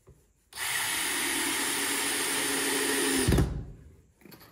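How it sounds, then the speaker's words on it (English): A power drill drives a 2-inch exterior screw into a wooden barn swallow nest box: one steady, loud, close whine lasting about three seconds that winds down abruptly as the screw seats, with near-silence before and after. "We're screwing it together with 2-inch exterior screws."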